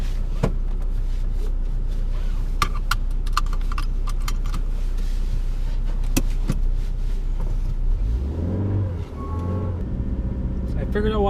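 A car driving on a cold winter day with a steady low engine and road rumble, a few sharp clicks and rattles inside the cabin, and a brief rise in engine noise near the end.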